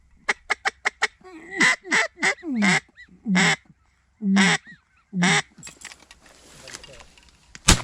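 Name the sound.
flock of widgeon ducks calling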